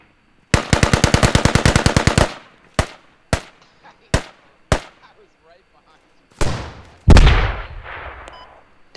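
Automatic gunfire in the military shooter game Squad: a rapid burst of about twenty close shots, then several single cracks spaced apart, and a louder boom with a rumbling tail near the end.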